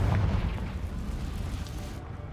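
A Confringo explosion spell goes off in the Hogwarts Legacy video game, a low booming blast that fades into a sustained rumble, with no voices.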